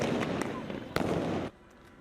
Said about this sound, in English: Explosive flashbangs and clouds of tear gas filled downtown LA last night